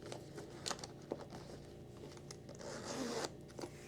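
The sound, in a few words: zipper closing on Louis Vuitton Pochette bag pouch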